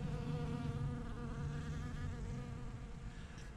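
Bees hum in a steady, close buzz around a flowering epiphyllum orchid cactus, droning continuously without pause.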